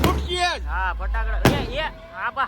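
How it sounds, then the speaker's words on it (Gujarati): A single sharp explosive firecracker bang at a wedding cuts through lively talking, loud and close. "ગજબના ફટાકડા"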